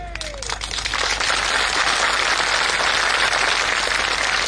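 A large crowd applauds at an open-air public rally in Sirsala, producing dense, steady clapping that swells and holds loud throughout, with a brief voice at the very start.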